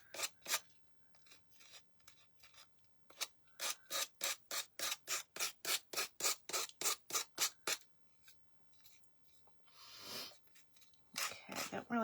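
A small wooden butterfly being sanded by hand: a long run of quick, regular rasping strokes, close and fairly quiet, with a brief pause and a short softer scrubbing stretch near the end.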